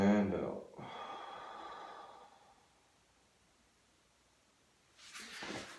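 Breath sounds from a spinal breathing drill: a strong inhale and a sharper, gasping exhale at the start, softer breathing over the next seconds, then another rushed breath near the end, each close and fairly quiet.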